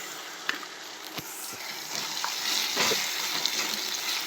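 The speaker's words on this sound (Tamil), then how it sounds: "இப்போ இதோட இந்த அரைச்ச விழுதை சேர்த்துக்கலாம்." Ground masala paste hitting sautéed onions in a pan over a low flame, giving a steady soft sizzle with faint stirring clicks, close and alone.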